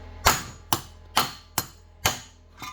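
Hammer striking a screwdriver to loosen the flywheel nut on a Coleman 200RSV engine, six sharp metallic blows at a steady rhythm about half a second apart, close and clear with no talking.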